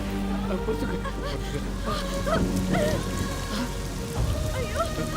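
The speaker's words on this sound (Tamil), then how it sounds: "ஐயோ, மழை வர மாதிரி இருக்கு." Steady rain falls outdoors near a temple, a dense continuous patter on surfaces with a music score playing over it throughout.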